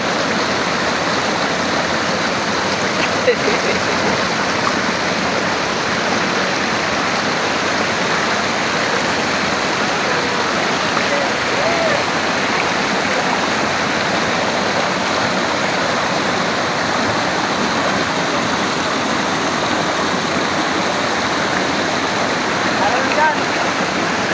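Taytay Falls in Majayjay, Laguna, heard as a steady, loud broadband rush of falling water that continues without a break, close by and drowning out everything else.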